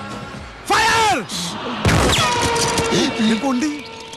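A gunshot effect in the Malayalam comedy film CID Moosa lands as one sharp, loud crack amid shouting and excited voices.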